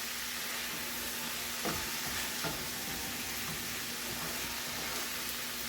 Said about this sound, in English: I'm just going to cook all this meat through